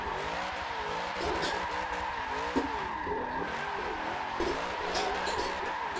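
A car drifts in a racing video game, its wavering engine note rising and falling under a continuous screech of tire squeal, steady and sustained throughout.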